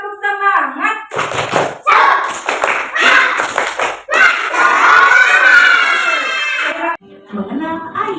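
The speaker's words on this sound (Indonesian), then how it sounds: "kita tepuk semangat dulu yuk. Tepuk semangat." Children clap out a rhythmic spirit chant in a classroom, sharp bursts of clapping in quick groups mixed with loud shouted chanting, close and energetic.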